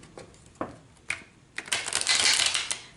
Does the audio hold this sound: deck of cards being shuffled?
yes